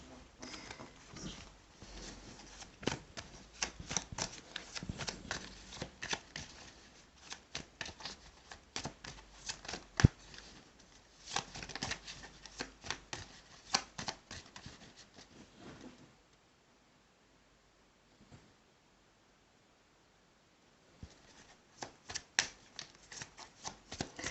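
A deck of tarot cards is shuffled and cut close up, with repeated rapid riffling and soft flicks in irregular bursts, a short quiet pause, then more shuffling.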